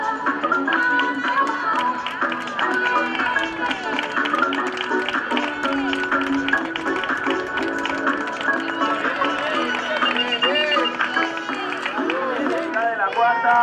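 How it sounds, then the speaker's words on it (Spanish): Steady clapping and cheering from a crowd lining the finish straight of a women's popular triathlon in Villa Alhama, with music and busy chatter mixed in the whole time. "Fuerte el aplauso para Paula Sánchez."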